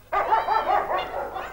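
A dog of a border guard unit barks and yips during training. The short, fairly close outburst is continuous and lasts over a second, with overlapping barks and whine-like tones and no speech.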